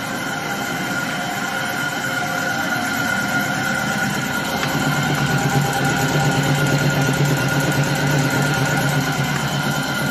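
An air compressor runs steadily to build pressure up to 8 bar for a vacuum evaporation coating machine, a loud continuous mechanical drone with a rough hum that holds unbroken from start to end, with no talk.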